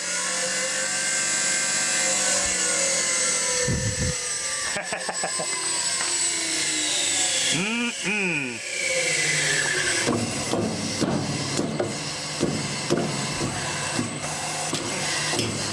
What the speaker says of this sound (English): Yeah, my motor's just come loose.